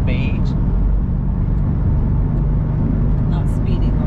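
A 2020 Land Rover Defender cruising at speed on a dual carriageway gives a steady, loud rumble of road and engine noise, with people talking over it inside the cabin.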